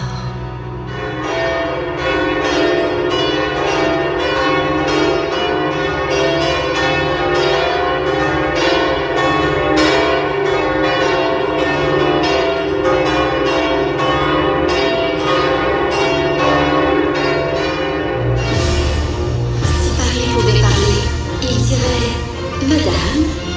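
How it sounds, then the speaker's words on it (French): Large church bells ring from the north tower of Notre-Dame cathedral in Paris, a steady, loud, overlapping peal of resonant strikes sustained throughout, growing denser and more clangorous toward the end. "nous prierons pour la paix, à l'appel des cloches de la tour nord"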